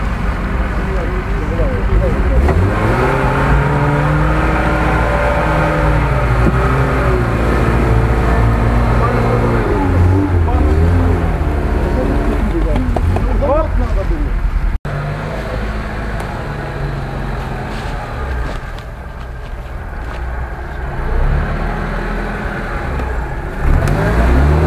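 A GAZ-66 off-road truck revs its engine repeatedly, loud close growling that rises and falls in pitch, with people shouting over it.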